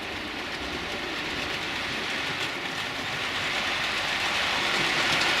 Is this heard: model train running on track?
yes